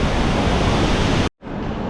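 The Iguazu waterfall roars as a loud, dense, unbroken wash of rushing water close by. It cuts to a brief silent gap and then resumes slightly softer.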